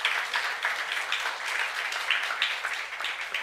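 Members of a church congregation applaud during a sermon, a fairly close crowd of hands clapping in a steady patter, with individual sharper claps standing out through the wash.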